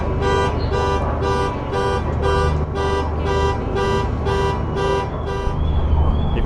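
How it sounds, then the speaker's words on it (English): Car movement alarms sound aboard a ferry crossing to the Isle of Skye, a regular repeating electronic beep-tone pattern, about ten even pulses, loud against a low engine hum. "Everybody with their movement alarms going off."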